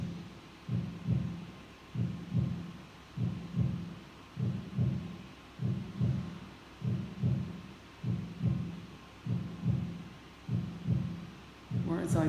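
A heartbeat sounds in an art installation about refugees, a deep, steady lub-dub thumping that repeats about a dozen times in an even rhythm, loud and close over a low hum.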